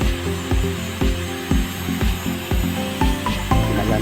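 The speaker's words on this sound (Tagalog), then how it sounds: "Gamitan na po namin ngayon ng grinder para po maging mabilis yung pagkakinis po ng lapida." An angle grinder smoothing and polishing a marble gravestone, its steady high whine pulsing in a regular rhythm about twice a second as it is pressed and eased against the stone, close and loud with no talk.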